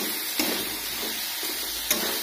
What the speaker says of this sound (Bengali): এই দেখো মাছ অসুখ, এই যে ভাজছি।